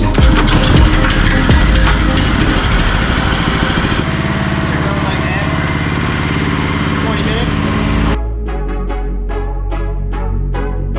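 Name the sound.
459cc golf cart engine running during break-in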